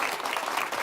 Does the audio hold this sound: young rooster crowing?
no